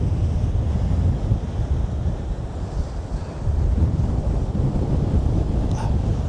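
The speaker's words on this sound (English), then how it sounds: "you can see we're in a gale" Gale-force wind buffets the microphone on a sea coast, a constant heavy roar mixed with surging surf, loud and unbroken for several seconds.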